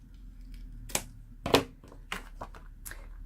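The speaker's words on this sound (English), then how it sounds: "So we're just going to cut off that excess." Scissors snip off excess ribbon while finishing a handmade stamped card, giving a few sharp, close cuts spaced apart amid light handling noise on a quiet table.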